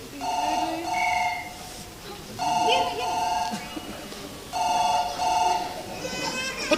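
A telephone rings in three clear bursts of double trills with pauses between, during a Tulu comedy stage drama, with voices talking underneath.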